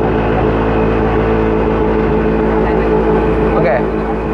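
A Mitsubishi Xpander's engine idles close by at around 1500 rpm, a loud, steady low rumble that continues without a break.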